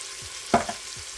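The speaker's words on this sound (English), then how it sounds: "And now that all that's sauteing pretty nicely" Garlic powder, cumin, smoked paprika and other spices sauteing in browned butter, with one short stirring scrape and a lighter second scrape over a faint background sizzle.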